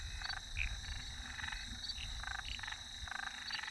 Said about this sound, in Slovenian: ampak slišiš ti žabe?